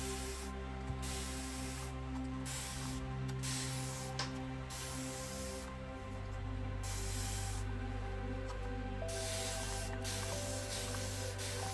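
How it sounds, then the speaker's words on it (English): Spray bottle misting an isopod enclosure, a continuous hissing spray running for many seconds with brief gaps and pulses, close by over a low steady hum. "now I'll do my heavier spray down here"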